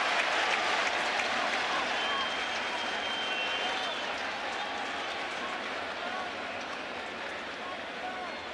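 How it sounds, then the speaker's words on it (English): Yankee Stadium crowd in the Bronx during a 2022 Blue Jays at Yankees game lets out a sustained, broad jeering roar in the ninth inning, steady and dense throughout with no clear peaks. "And the Bronx cheer."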